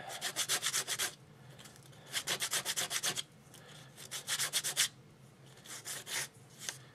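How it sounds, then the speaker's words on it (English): Sandpaper rubs the sides of a small cardboard track bumper for an N gauge model railway in quick bursts of close, rhythmic back-and-forth strokes separated by short pauses. "take my piece of sandpaper again and just touch the sides up a little bit"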